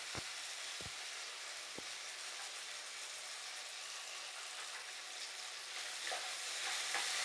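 Steady, bright sizzling of chopped garlic frying in a pan, with a few scraping stirs near the start and louder crackles toward the end.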